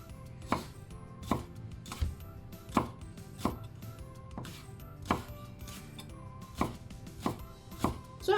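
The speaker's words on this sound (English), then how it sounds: "I'm going to chop them up finely as well" A knife chops leaf greens on a cutting board in a steady run of sharp, close, evenly spaced strikes, about one per second, with no talking, while soup ingredients are prepped.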